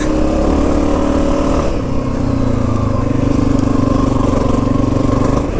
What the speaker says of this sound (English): The exhaust is a little bit louder than the 230F, and it's a little bit louder than I expected